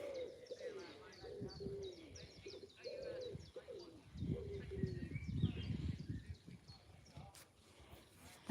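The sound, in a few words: pigeon cooing in a tree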